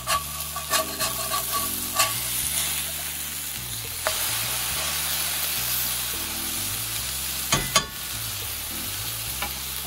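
A lamb smashburger sizzling in a hot pan while a sharp spatula scrapes under the crust and flips it, with bright crackling fat, several sharp scraping clacks and a steady hiss.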